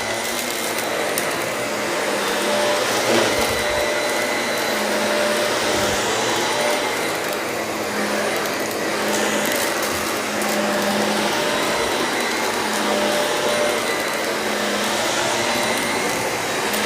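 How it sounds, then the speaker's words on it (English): A customer's vacuum cleaner runs steadily on carpet soiled with dog urine and feces, a loud, continuous motor whine with airy suction hiss that holds evenly throughout with no speech. "so I'm using the customer's"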